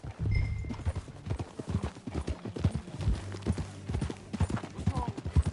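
Horse hooves clip-clop in a steady rhythm in Red Dead Redemption 2 as horses are ridden across the ground, with an occasional whinny, game music and voices talking over the hoofbeats.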